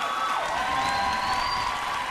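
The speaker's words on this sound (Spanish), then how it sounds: "Y un aplauso para todas estas muchachas que de verdad se lo merecen." A crowd applauds and cheers for women inmates at a prison gathering, a steady wash of clapping with whistles and whoops throughout.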